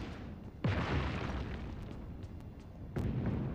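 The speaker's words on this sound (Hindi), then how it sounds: "अबे बमबारी हो रही है क्या भाई?" Two deep booming explosions from a bombardment in the BGMI battle royale game, the first loud blast near the start and a second about two seconds later, with a rumbling roar sustained between them.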